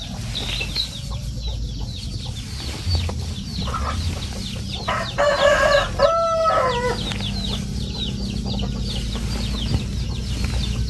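Chickens cluck steadily close by while a rooster lets out a clear crow midway, with wing flaps and busy farmyard noise in the background.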